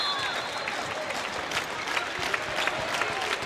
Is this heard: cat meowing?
no